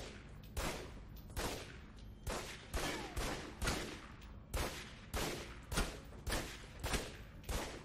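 Gunfire in the spy action game Alpha Protocol, a steady series of about a dozen sharp, evenly spaced shots, each with a short ringing tail, fairly quiet overall.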